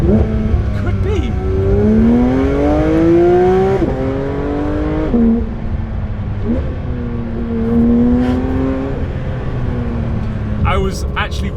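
A 2023 Porsche 992 GT3 RS engine revs loudly up and down through several gear changes, with rising and falling pitch sweeps and short breaks between shifts, heard from inside the car with a person speaking over it.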